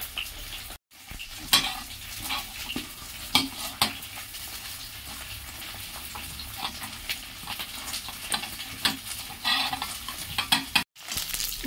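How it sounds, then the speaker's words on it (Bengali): Cauliflower pieces fry in a pan of oil with a continuous close sizzle. Frequent spatula stirs and scrapes rise above it in uneven bursts, and the sound cuts out briefly twice. "ফুলকপিগুলো ভাজে ভাজে হোক"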